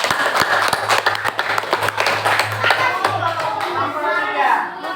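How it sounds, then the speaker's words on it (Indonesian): Students in a classroom clap for a presenting group, a lively burst of many hands tapping fast and unevenly, with children's voices chattering underneath before the applause fades out. "Tepuk tangan dulu untuk kelompok 3."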